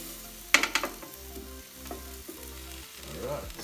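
Cauliflower steaks sizzling on a Ninja Foodi grill as they are turned over, a few clattering knocks of the flip followed by a soft, steady frying hiss underneath.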